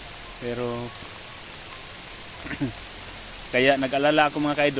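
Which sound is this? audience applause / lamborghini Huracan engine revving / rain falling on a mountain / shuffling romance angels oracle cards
rain falling on a mountain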